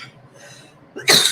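A single harsh, breathy cough bursts in near the end after quiet room noise, loud and close.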